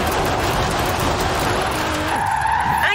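Car drifting in Forza Horizon 4, a continuous loud tire skid with a steady engine roar throughout, the squeal shifting pitch near the end as the slide changes.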